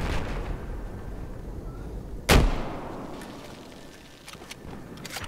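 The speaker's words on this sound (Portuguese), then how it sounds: "os caras dando pipoco de tanque e eu atirando de RPG nos tanques" Tank cannon and RPG fire in the video game Battlefield 4: one loud, sharp blast stands out over a murky rumble of distant combat, followed by a few fainter cracks as the noise fades.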